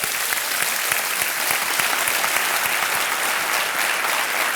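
Sustained audience applause at a Kaun Banega Crorepati season 9 game show taping, dense steady clapping filling the hall without pause.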